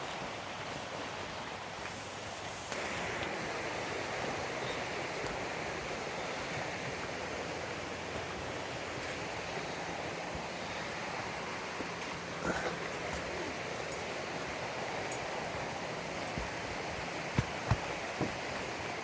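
A backcountry creek in the Georgia woods flows steadily beside a trail, a constant broadband rush of water running the whole time with a few small knocks and footfall sounds near the end.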